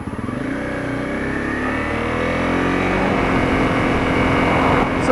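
Honda CRF250L motorcycle rides along a wet, slushy downtown main street in winter, its engine droning steadily and rising slightly in pitch, with hiss from tires on the wet road, close and continuous.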